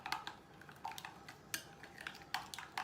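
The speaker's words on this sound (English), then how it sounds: "We'll mix it until it's well blended." Spoon scraping and clinking against a bowl as peanut butter is blended into a treat mixture, a quiet run of irregular taps and scrapes.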